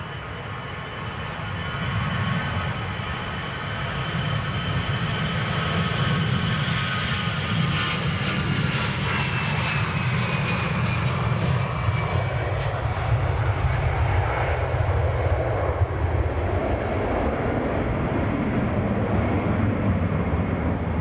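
An EasyJet airliner at Edinburgh Airport roars loudly and steadily for the whole stretch, its broad jet-engine rush slowly shifting in pitch as it moves past.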